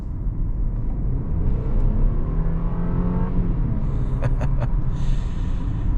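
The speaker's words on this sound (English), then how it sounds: "Engine's quiet again, but it does have a nice little throaty sound to it" Turbocharged engine of a 2026 Audi A6 S Line accelerating, heard from inside the cabin as a steady, fairly loud low rumble, with a few brief high ticks near the end.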